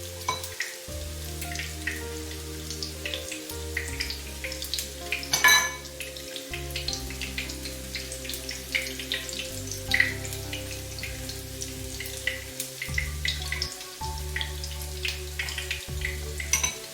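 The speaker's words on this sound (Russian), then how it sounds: "Пока жарится последняя партия котлеток" Meat cutlets fry in a pan with a soft, scattered crackle and popping sizzle, running continuously beneath steady background music.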